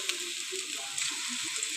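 Onion bhaji sizzle and crackle steadily in hot oil, a close, even frying hiss with small pops and a faint stir, with no voices over it.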